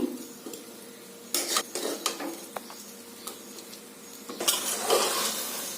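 Fried paneer pulao ingredients are scraped from a wok into a pressure cooker: metal utensils clank and scrape in a few close bursts over a faint, low sizzle.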